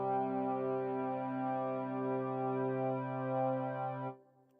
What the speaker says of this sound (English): Let's add a bit of reverb to this.